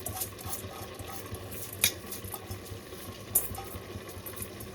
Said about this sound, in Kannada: ಇವಾಗ ತೊಳೆದಿಟ್ಟಿರ್ತಕ್ಕಂಥ ಅಕ್ಕಿ ಹಾಕ್ತಾ ಇದ್ದಾರೆ